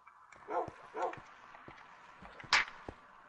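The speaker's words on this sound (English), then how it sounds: "I can hear the dog and everything, but there is no dog here." A dog barks a few times in the video game Minecraft on PS4, short yips spaced out over a couple of seconds, fairly close and clear against a faint background.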